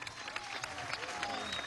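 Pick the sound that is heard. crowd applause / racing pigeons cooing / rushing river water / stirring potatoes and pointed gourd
crowd applause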